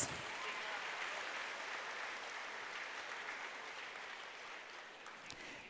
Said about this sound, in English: join me in saluting them with a resounding round of applause